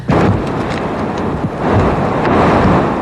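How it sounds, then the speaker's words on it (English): Hurricane-force winds roaring along a storm-battered coast with waves crashing, a dense, loud, continuous rush of wind noise and surf buffeting the microphone, with no voices. "On the coast, waves crashed violently, pushed by the first hurricane-force winds."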